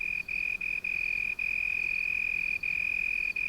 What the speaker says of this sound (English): To advertise for a mate, the male cricket has developed a system comparable to a loudspeaker, where a vibrating membrane, his wings, is surrounded by a baffle.